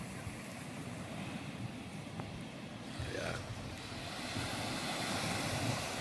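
Ocean waves break with spray in a steady, broad wash of surf that grows slightly louder toward the end, with wind and no voices.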